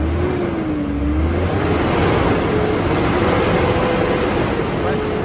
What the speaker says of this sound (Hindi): काफ़ी पावरफुल इंजन है। वाह, fantastic melodious sound for vehicle enthusiast